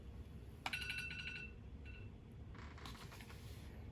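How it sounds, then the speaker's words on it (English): A phone rings indoors with a short, bright electronic ringtone, faint and brief, over a low steady room hum. "Excuse my phone."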